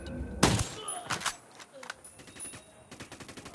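Gunfire in the Ghost Recon Wildlands video game, a sharp loud shot followed by scattered bursts and rapid closely spaced rounds with thuds in between.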